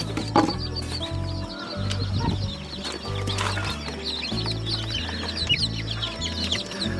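Many week-old chicks peep and chirp continuously over a steady low mechanical drone, with occasional louder clucks mixed into the busy chatter.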